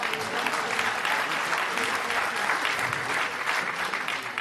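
An audience at a political meeting against pension reform in Saint-Agathon applauds in a dense, steady burst of clapping that continues throughout.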